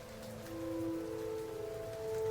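Steady rain falls as a soft, even hiss under a low, sustained tonal hum, quiet and unchanging throughout.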